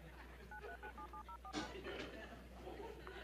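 A phone number is dialed as a quick run of touch-tone beeps, followed by a louder clack, with people talking in the background.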